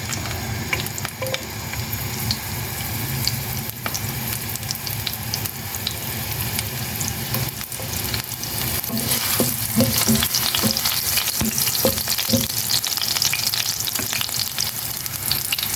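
Ginger sautés in a hot pan for pinakbet, giving a dense, steady sizzle that swells louder partway through, with occasional stirring clicks and scrapes close by.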